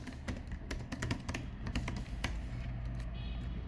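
Computer keyboard keys pressed in quick, irregular taps during an Excel spreadsheet shortcut demonstration, close and clear with a steady low room hum underneath and no talking.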